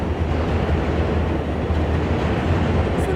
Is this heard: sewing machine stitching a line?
no